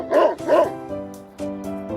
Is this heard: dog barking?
yes